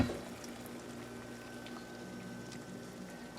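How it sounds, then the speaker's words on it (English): Homemade chicken broth poured through a colander into a container below, a steady close gushing, trickling flow with no talk. "I'm just going to use a colander and then this underneath to catch it so I can have my stock. So let's just go ahead and pour that in there."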